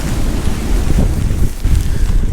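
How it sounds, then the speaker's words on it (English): Hurricane wind gusts batter the shore at Lantana Beach, Florida, as a loud, constant roaring rush of noise against the microphone, swelling and easing slightly without a break. "the wind just swirls around. It lets up every now and then it picks up again"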